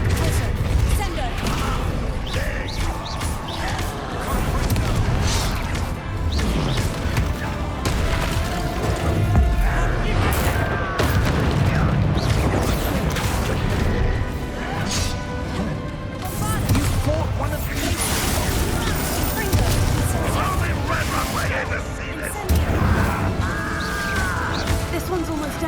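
Spell blasts and explosions while fighting a troll in the Hogwarts Legacy video game, a dense run of booms, crashes and impacts over game music and effects, loud and continuous.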